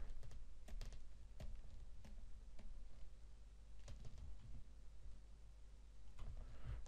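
Quiet computer keyboard typing, soft scattered keystrokes and short clusters of taps over a steady background hum, with no speech.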